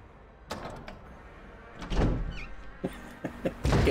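A door opens in the Resident Evil remake video game with a couple of muffled thunks and a heavier low knock, set against a dim ambient room tone with a faint creak in between.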